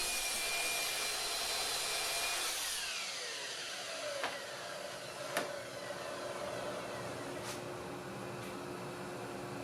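A power tool trims the rounded top off redwood fence pickets, a loud steady whine for about three seconds that drops away, followed by quieter rustling and a few sharp knocks.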